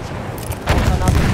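Gunfire in Battlefield 1 bursts out loud and close, a dense fusillade of shots that swells after a brief lull, with voices shouting over the fighting.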